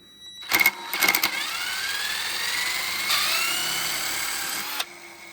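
Worn car alternator spun up on a bench test, a sharp burst of whirring as it starts, then a sustained high rising whine with a rough, grumbly edge before it cuts off.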